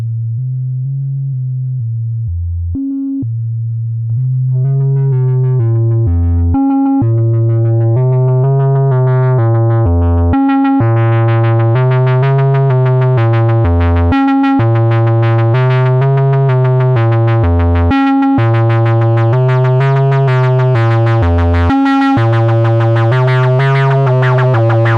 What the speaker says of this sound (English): A melodic sequencer is used to create a simple melody, and an envelope triggered by a faster multiplication of the clock coming from the sequencer is opening the filter.